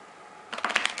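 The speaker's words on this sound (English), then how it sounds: "shuffling the cards, but really, you're just letting it pass through." A short, quick riffle of playing cards being shuffled, a close burst of crisp flutters after a moment of quiet.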